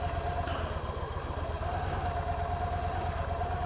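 A motorcycle engine idles close by with a steady, throbbing low rumble and fast rhythmic pulses, running alone without talk.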